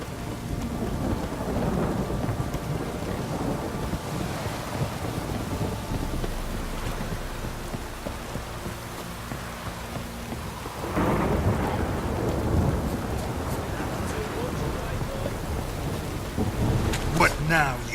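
A heavy downpour with rolling thunder in The Witcher 3 video game: steady loud rain throughout, with thunder rumbling and swelling several times and brief clattering toward the end.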